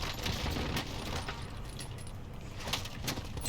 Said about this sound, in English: No, stop shooting me, you dummy.